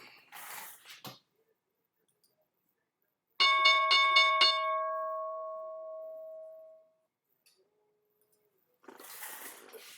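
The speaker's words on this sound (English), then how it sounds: "We got 20 seconds to the bell." A stock market opening bell rings out loudly for about three seconds of rapid strikes, then its tone hangs and fades, with brief faint sounds before and after.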